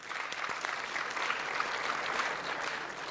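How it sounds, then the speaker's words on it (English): An audience at a provincial crime summit in KwaZulu-Natal gives a round of applause, a steady, moderately distant wash of many hands clapping with a faint crowd murmur. "Ngicela simuphe nje a round hand of applause."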